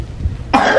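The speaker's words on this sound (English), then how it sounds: "you're still coughing" A single sharp cough breaks out after a short quiet moment, close and fairly loud.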